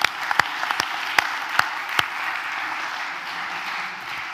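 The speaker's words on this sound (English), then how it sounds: "round of applause to you" Applause from a small gathering, with several sharp, distinct claps ringing out near at the start over a steady softer patter that fades slightly toward the end.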